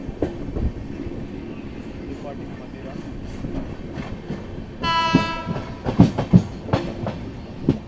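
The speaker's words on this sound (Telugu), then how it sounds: "ఒక ట్రైన్ అయితే అరైవ్ అవుతుంది మదిరాకి." A passenger train pulls into Madhira station, with a steady low rumble of moving coaches, a sustained horn sounding briefly near the middle, and clattering wheel knocks toward the end.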